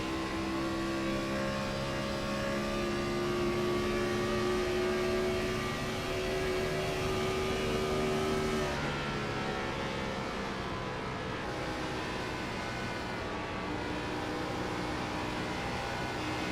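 Onboard an ARCA Series race car at Auto Club Speedway, the engine holding a steady high drone with a smooth pitch drop around the middle as the driver eases off the throttle, loud and continuous.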